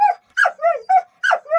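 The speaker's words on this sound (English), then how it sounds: "why are you barking? I mean, why are you whining?" A dog inside a 1975 Prowler travel trailer lets out a run of short, close, loud whiny barks and yips, about six in quick uneven succession with brief gaps between them.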